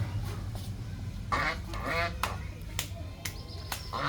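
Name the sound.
ducks quacking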